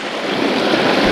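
Water from a waterfall pours into a forest pool used for bathing and washing dishes, a loud, close, continuous rushing roar with no voices.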